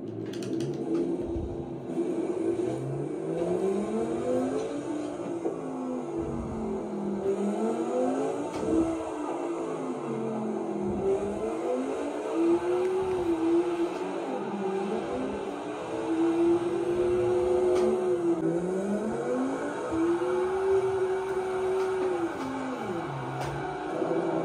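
Engine in the Forza Horizon 5 video game, revving in sweeping rises and falls as a car drifts through repeated slides in first gear, loud and continuous with no talk.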